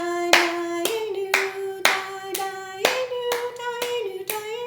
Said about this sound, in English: Maybe we could clap our hands.